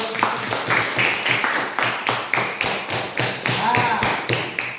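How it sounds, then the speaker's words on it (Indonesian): A classroom of students claps together in a steady, rhythmic beat, the loud, evenly spaced claps continuing without pause throughout. "Kita berikan aplaus dulu untuk"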